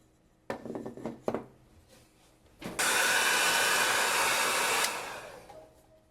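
A hair dryer is blown over a plaster piece painted to look like rusted iron. A few light clatters and taps come first, then the dryer roars on loud and close for about two seconds before cutting off.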